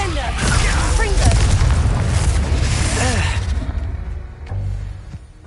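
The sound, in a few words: spell explosions in video game Hogwarts Legacy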